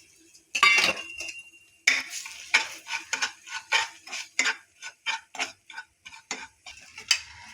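Spices are stirred in hot oil in a pan for kachchi dabeli, a quick series of close scraping and clinking spoon strokes against metal with a faint sizzle underneath.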